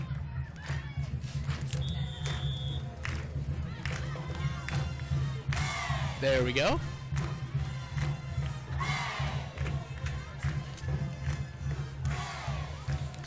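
Football fans in the stands at a 1997 high school game, standing and clapping amid loose crowd noise, shouts and a few brass notes from a pep band, with a voice speaking briefly near the start.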